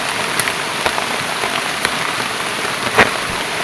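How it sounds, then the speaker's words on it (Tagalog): Steady rain falls on surfaces, a dense continuous patter up close with scattered louder drips and taps, no talking over it. "Ulan din. Ulan pa guys. Ulan pa."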